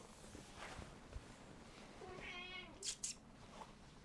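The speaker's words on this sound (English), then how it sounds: "She was meowing outside." A cat meows a few times in a quiet room, a rising drawn-out cry followed by shorter calls, with faint footsteps and small bumps around it.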